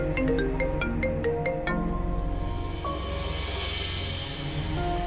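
A mobile phone plays a melodic electronic ringtone, steady and fairly loud, repeating its tinkling tune alone with no talk over it.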